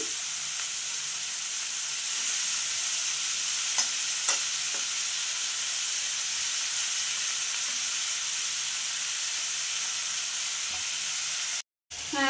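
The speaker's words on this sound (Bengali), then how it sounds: "দেখো এদিকে মাশরুমটা ভাজা হচ্ছে, মাশরুম আলু" Mushroom and potato, with tomato and onion, fry in a pan as a steady, loud sizzle that holds almost unbroken, with a few faint clicks, then cuts out briefly near the end.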